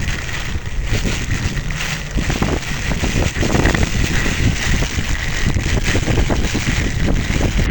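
Storm winds whip across the water at a bridge in Thondaimanaru during a cyclone, with waves surging and crashing. The roar of wind buffets the microphone and the waves churn loudly and steadily throughout.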